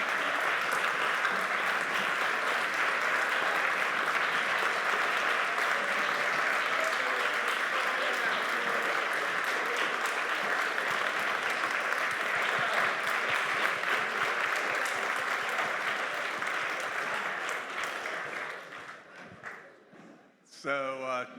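Sustained applause and cheering from a debate audience fills the hall at a steady, loud level for most of the stretch, then thins and fades near the end, leaving a few scattered claps and thumps.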